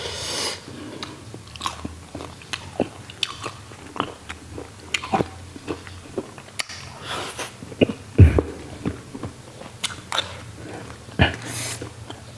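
Someone chewing grilled buffalo skin close up, with repeated crunchy bites and wet chewing in an irregular rhythm.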